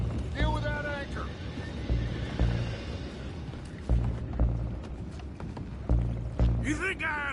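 Horses whinny loudly in Red Dead Redemption 2 while hooves clop and heavy impacts thud, with a shrill neigh near the start and another at the close, all in a busy game scene.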